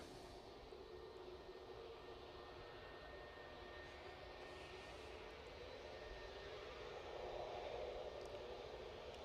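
A distant easyJet airliner departing Manchester Airport makes a faint, continuous engine roar and rumble that swells slightly toward the end, with no talking.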